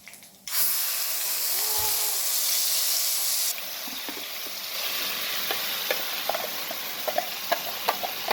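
Hot oil sizzles loudly as mustard seeds and urad dal are added, then settles into a steadier frying hiss with sharp crackles and pops as seeds spatter.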